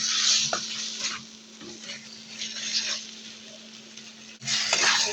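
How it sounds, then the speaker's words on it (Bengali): Taro leaves (kochu shak) are stirred and mixed in a cooking pan, with scraping and soft clattering over a light sizzle and louder bursts at the start and end. "ভালোভাবে নাড়িয়ে মিশিয়ে দিব"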